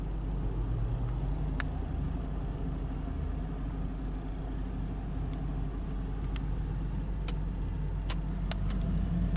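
A 2003 Ford Thunderbird Premium with a 3.9-liter V8 and five-speed automatic runs at a steady, low idle, a quiet, even rumble with a few faint clicks and no talk.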